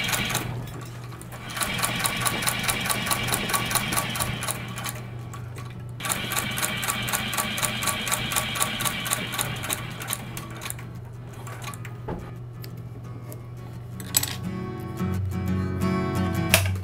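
Saddle leather feeds through a sewing machine in a saddle shop, giving a rapid, regular mechanical chatter in bursts with short pauses between them. The machine is heard alone, with no talk.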